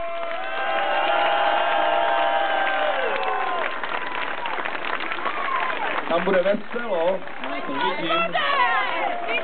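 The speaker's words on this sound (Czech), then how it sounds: "Potlesk ještě jednou pro Žíteň" A crowd applauds and cheers for a winning aerobics team at an awards ceremony, loud and dense at first, then easing into scattered claps and chatter while someone talks over it.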